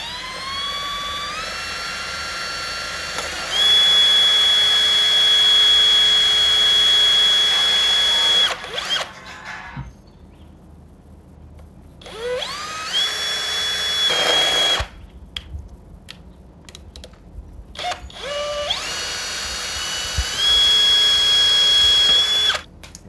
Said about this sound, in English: we're going to attempt to hole saw the side of a piece of pipe